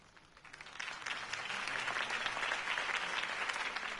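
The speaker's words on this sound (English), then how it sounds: "could have heard that applause" Steady applause from a crowd at a political campaign speech in Batman: The Telltale Series swells after a quiet start and holds at a moderate level, with dense clapping throughout.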